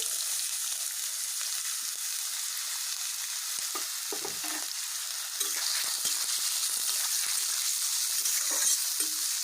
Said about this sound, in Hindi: इसमें अब पहले भुजिया डाल दूँगी आलू का।